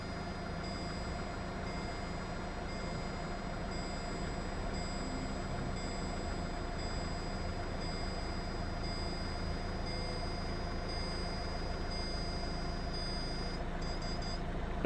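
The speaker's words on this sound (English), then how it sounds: "now when it does a continuous beep sort of, that means I'm in the right position" A Citroen C4 Picasso's air suspension gives a continuous high-pitched beep that holds steady over a constant low mechanical hum, with no talking.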